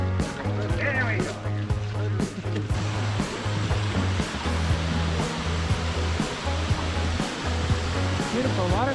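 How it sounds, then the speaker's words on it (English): A waterfall in the Ketchikan, Alaska area rushes in a steady broadband roar through the clip, with people talking over it. "Beautiful waterfall."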